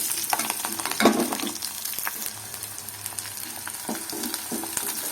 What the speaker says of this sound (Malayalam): ചൂടായ എണ്ണയിലേക്ക് ചെറിയ ഉള്ളി പച്ചമുളക് കറിവേപ്പില വെളുത്തുള്ളി ഇഞ്ചി എന്നിവയിട്ട് വഴറ്റാം